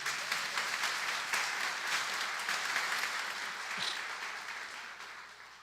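A church congregation claps for the word of God after a Portuguese Bible reading, sustained steady applause that sounds moderately distant and fades slightly toward the end.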